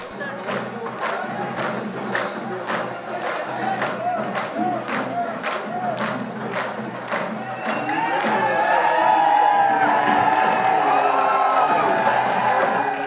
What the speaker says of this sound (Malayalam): ഒന്നര പതിറ്റാണ്ടായി കണ്ണൂർ ജവഹർ സ്റ്റേഡിയം കാതോർക്കുകയായിരുന്നു ഈ ആരവം